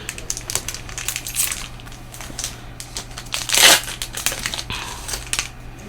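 A Phyrexia: All Will Be One collector booster pack being torn open, crisp foil crinkling and rustling in quick bursts with one louder tearing crunch partway through, close and with no talking.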